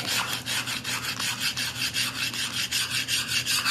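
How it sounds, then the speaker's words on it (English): A steel chisel scrapes and polishes wall tile and grout lines during a demolition walkthrough, giving a close, steady run of quick rhythmic rasping strokes, several per second, with no talking. "I'm polishing their tile for them with a dadgum chisel"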